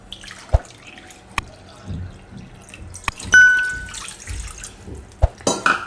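Water is poured into a pot in a home kitchen, to be heated for kneading jowar flour dough for pizza; splashes, drips and a bright metallic clink come in short separate bursts, fairly close, with no talking.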